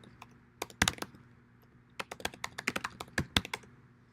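Someone types on a computer keyboard, entering text commands in short bursts of crisp key clicks separated by pauses, close and clear with no talking.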